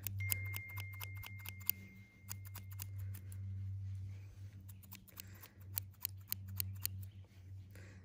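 Scissors snip a doodle's fur around the eyes during grooming: quick, crisp clicks in short bursts, close and fairly quiet over a low background hum.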